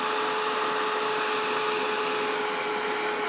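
A hair dryer blows steadily to dry paint, making a constant, close, loud whooshing hum with a faint motor whine, alone without talk.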